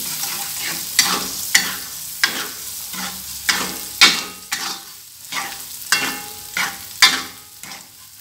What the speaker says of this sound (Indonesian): terus diaduk merata ini